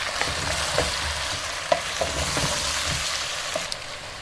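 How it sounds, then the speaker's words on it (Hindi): Potatoes frying with spices in a pan for aloo bhujia, a steady close sizzle with sharp stirring clicks and scrapes at irregular intervals. "इस मसाले के साथ अब हम इसको 3 से 4 मिनट तक फिर भूनेंगे"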